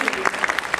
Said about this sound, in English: let's give them another round of applause for all the work they did